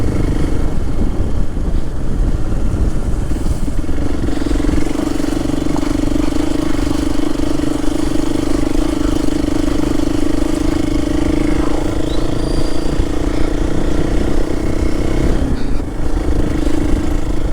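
Hero Xpulse 200 4V motorcycle engine running steadily at idle with a constant mid-pitched hum, close and fairly loud, with no talking over it.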